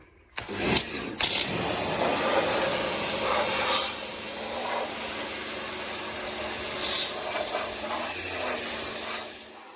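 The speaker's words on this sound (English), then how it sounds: "So now we'll hose it off and see how it comes up." Water hosed across the engine bay of a Ford BF XR6 makes a loud, steady broadband spray hiss that runs for the whole stretch, with a few brief louder bursts near the start and small surges later, then tapers off at the end.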